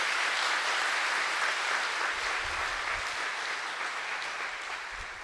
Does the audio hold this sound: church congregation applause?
yes